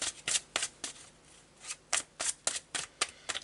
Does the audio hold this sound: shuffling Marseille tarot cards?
yes